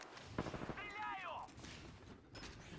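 Gunfire in the battle royale shooter Apex Legends, faint rapid shots heard under a man's speech and game sound effects.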